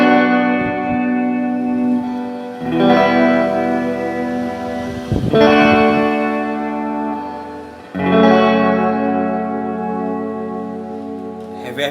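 Electric guitar through a Lightyear BFFX reverb pedal with decay turned fully up, three strummed chords each left to ring out in a long, lingering reverb tail, loud and close.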